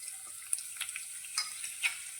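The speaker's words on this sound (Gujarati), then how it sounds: "લસણની કરીને આપણે સારી રીતે સાંતળી લઈશું" Thinly sliced garlic cloves sautéing in hot oil for a Gujarati okra dish, a soft steady sizzle with scattered faint pops and crackles, close and quiet with no talking.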